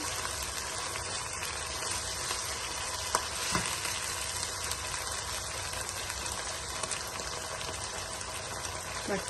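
Onions with spices sizzle steadily in a pan for an Indian dal bhuna curry, a dense, even frying hiss with occasional faint clicks of stirring.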